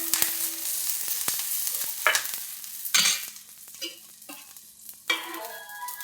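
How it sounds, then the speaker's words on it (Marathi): Garlic and ginger frying in oil for a drumstick curry, a soft, steady sizzle broken by several louder scraping stirs of a spoon in the pan at irregular intervals, with no talk. "त्याच्यातच लसूण आणि अद्रक टाकलेलं आहे आपण. त्याला पण छान फ्राय करून घ्यायचं."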